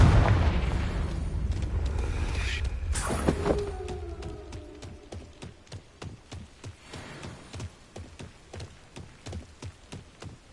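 A Confringo blasting spell goes off in Hogwarts Legacy: a loud, booming burst up front, then a sharp crack near the three-second mark, fading into a steady train of rapid, evenly spaced popping impacts.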